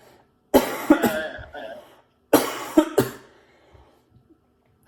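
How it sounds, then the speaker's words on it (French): Two bursts of harsh, close coughing, each a quick double or triple cough, separated by a short pause, with no talking. "Et ça me fait tousser par la même occasion."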